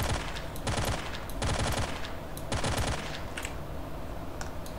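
Bursts of automatic gunfire from a STALKER video game firefight against mutants, three sustained rattling volleys with brief pauses between, loud and close with no talking.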